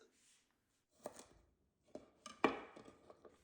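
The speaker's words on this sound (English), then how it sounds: "Wash and cut broccolini, separating the stems from the florets." Knife chopping washed broccolini on a board, separating stems from florets: a few sharp, separate cuts spread out at close range, the loudest near the end, with quiet gaps between them.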